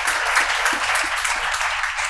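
A short burst of steady audience applause at the CDN CIA Awards ceremony, with many hands clapping evenly and fairly loudly for about two seconds.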